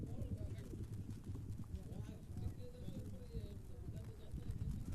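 Polo horses gallop downfield at a championship match, their hooves thudding in a quick continuous clip-clop at a moderate distance, mixed with crowd and ambient noise.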